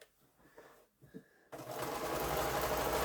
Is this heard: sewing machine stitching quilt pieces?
yes